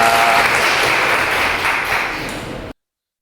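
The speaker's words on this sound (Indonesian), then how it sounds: "Oke, tepuk tangan dulu." Applause from a gathered audience at a university teacher-training event, loud dense clapping that holds steady and then ends abruptly.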